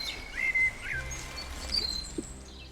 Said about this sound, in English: Them birds!